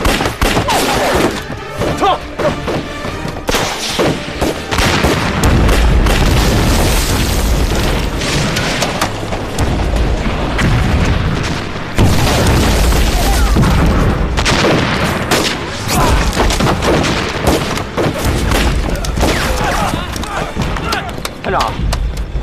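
A satchel charge explodes in a Chinese war drama set against Japanese troops, with heavy booms and rolling bursts of gunfire filling the scene, loud and dense, while voices shout over the blasts.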